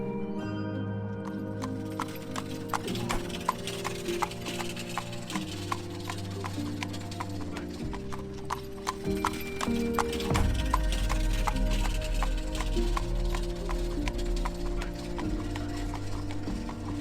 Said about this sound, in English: They should have the clip clop of the horses too.